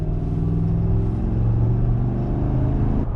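A 2014 truck engine running at about 2,400 RPM, a steady close, loud low rumble with a slight hum that holds level for a few seconds, no talk.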